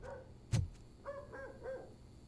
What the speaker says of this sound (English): Oh no, a dog.